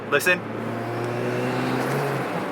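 Celica GT-S Turbo fitted with a TRD exhaust, its turbo removed, running with a steady engine drone and a sharp wastegate flutter near the start, close and moderately loud.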